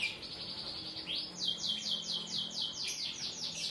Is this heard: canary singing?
yes